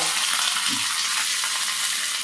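Curry leaves, dried red chillies, cumin and mustard seeds sputtering in hot oil for a tempering, a dense steady hiss and crackle close up with no talking.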